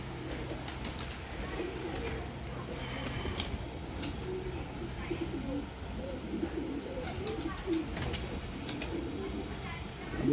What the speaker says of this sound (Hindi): देखिए कितना शानदार कबूतर है।